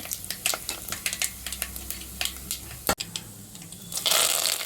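Fenugreek seeds, mustard seeds, cumin and two dried red chillies crackle and sizzle in hot peanut oil, with a steady bed of frying hiss under sharp pops and a louder spitting burst near the end.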